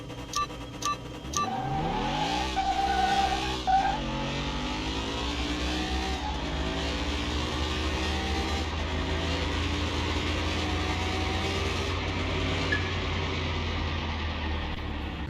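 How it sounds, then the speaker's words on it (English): Supercharged Mustang Fastback racing engine in Car Mechanic Simulator 2021, starting with a few sharp clicks, then roaring up through the gears with rising revs and shifts before settling into a steady, loud, close drone. "Going up against a supercharged Mustang Fastback."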